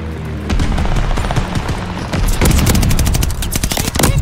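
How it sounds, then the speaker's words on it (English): Mortar fire and bombing in the Call of Duty Vanguard game on the Desert Siege map, loud bursts of rapid gunfire and booming blasts packed tightly together, with the barrage growing denser toward the end. "Allied mortar fire inbound."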